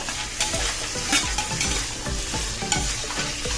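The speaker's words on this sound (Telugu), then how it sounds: "పచ్చి బఠానీలు వేసుకోండి వీటిని కొంచెం వేగనిద్దాం" Beans and green peas frying in hot oil while being stirred, with a continuous close sizzle and repeated rhythmic scraping strokes of a spoon against the pan, no voices.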